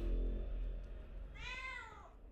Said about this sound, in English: they're going to hear a cat meowing